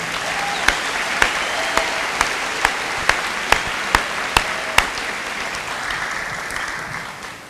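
A high school graduation audience claps for the Angola High School choir, a broad wash of applause led by a few sharp, regular single claps that fades toward the end, with no one speaking.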